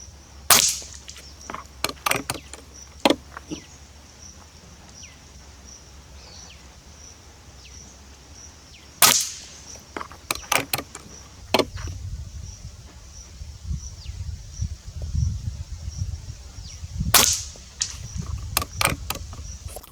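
A PX120 BX3 Minatour .177 air rifle fires slugs in three sharp, close cracks spaced several seconds apart, each followed by brief clicks and rattles, with low rumbling handling noise between shots.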